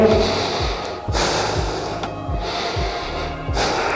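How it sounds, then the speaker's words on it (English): Slow, deep yoga breaths taken while standing in a pose, with strong broadband bursts of inhale and exhale repeating roughly every second or so, close and loud with no talking. "doing my deep breathing"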